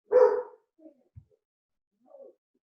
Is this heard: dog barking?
yes